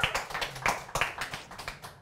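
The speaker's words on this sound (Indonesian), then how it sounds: "boleh tepuk tangan buat kita semua" Comedy show audience claps in a loose, uneven rhythm, a short patter of individual hand claps at moderate distance with no talking over it.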